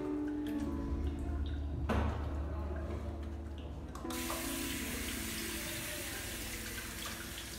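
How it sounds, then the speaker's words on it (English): Hands are rinsed under a running tap after handwashing, with steady splashing water in a sink, close and continuous, growing broader and louder partway through, with no talking. "take the water and rinse the hand very nicely"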